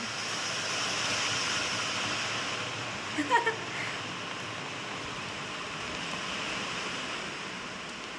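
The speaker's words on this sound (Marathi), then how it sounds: "आला पाऊस तुम्ही पत्र्यावर पावसाचा आवाज ऐकू शकता" Heavy rain drums on a metal sheet roof in a steady, fairly quiet hiss, with a brief clattering burst partway through and no speech.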